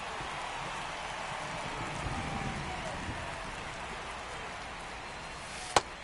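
Rain falls in the MLB 24 baseball video game, a continuous soft hiss of steady drops with a faint murmur beneath and one sharp click near the end.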